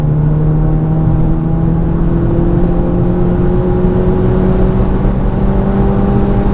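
Stage 3 turbocharged Seat Cupra of about 440 bhp pulls hard in fifth gear, its engine and turbo note rising slowly and steadily as a loud, continuous drone heard from inside the car.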